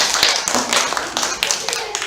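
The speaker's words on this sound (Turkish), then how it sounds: "Alkışlıyoruz Hilal'i." Schoolchildren in a primary school classroom clap for their classmate Hilal after a geometric shapes game, a brisk scattered round of hand claps lasting about two seconds, close by with some voices mixed in.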